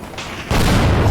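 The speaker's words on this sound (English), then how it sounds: "We had an explosion." An explosion in the video game Teardown bursts in as a sudden loud boom with a rumbling, noisy tail that stays strong to the end.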